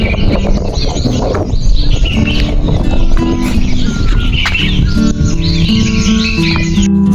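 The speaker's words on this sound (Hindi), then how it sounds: "तो आपने यहाँ पर सुनी होगी चिड़ियों की चहचहाहट" Many small birds chirp and tweet busily in the open morning air beside wheat fields in the hills, with overlapping calls near and far and a few softer cooing notes.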